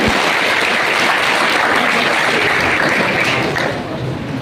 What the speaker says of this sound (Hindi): एक बार जोरदार ताली बजाइए आप